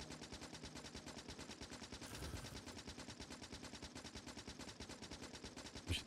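Rapid, evenly spaced automatic gunfire in Factorio rattles on without pause for several seconds, ending with a slightly louder burst.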